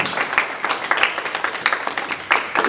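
An audience at a book launch claps steadily, a close, continuous patter of many hands with slight swells in intensity and no voices.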